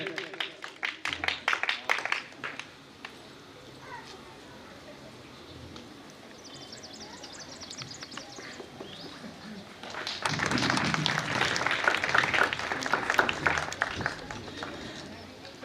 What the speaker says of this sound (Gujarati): આપણે સૌ તાળીઓના ગડગડાટથી વધાવી લઈએ